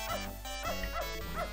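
A dog barks repeatedly in the Beneath a Steel Sky adventure game, a run of close, clear yaps and whimpering barks with no talk.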